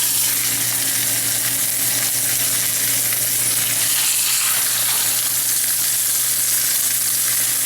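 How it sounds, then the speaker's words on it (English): Pork chops seasoned with salt and pepper sear in a hot pan, giving a loud, continuous sizzle and spatter that fills the whole stretch without pause. "Going to pan sear these pork chops."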